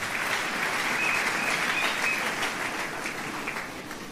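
A church congregation claps and cheers in a sustained, dense wash of applause that fills the room evenly, steady and moderately loud throughout with no speech over it.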